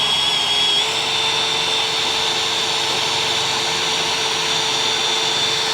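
A drill bit cuts a hole through oiled metal, giving a steady, loud high-pitched whine with a grinding edge that holds without a break for several seconds.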